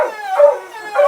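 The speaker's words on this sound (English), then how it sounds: "The dogs make that sound. Every time we scallop, this is what happens." Several dogs howl together in short, wavering, drawn-out cries close by, with no talking.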